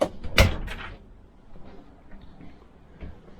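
RV kitchen drawers at an indoor sportsman's show knock and slide shut in a loud cluster near the start, followed by faint rustling and a soft thump later against a quiet room hum.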